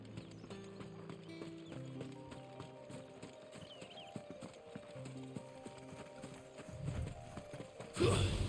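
Horse hooves clip-clop steadily at a moderate walking pace in Final Fantasy XVI, quiet and even beneath faint game ambience and music, ending with a louder burst of noise.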